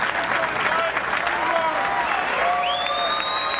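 A bowling crowd cheers and applauds for bowler Norm Duke at a PBA tournament, a loud, steady roar of clapping and shouting voices with whistles rising near the end.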